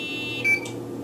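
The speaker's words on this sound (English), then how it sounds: "When you get that green beep" Mini Vidas barcode scanner giving a single short, clear electronic beep partway through, over a quiet background hum.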